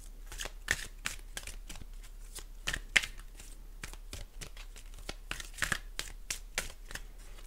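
Tarot cards being shuffled, a long run of soft riffling slaps and flutters at an uneven rhythm, close and fairly quiet over faint background hum.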